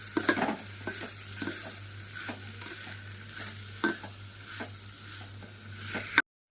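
Spice-coated rice frying in a pot for pulao, stirred in soft repeated scrapes over a gentle, steady sizzle and a low background hum, close and quiet with no talking.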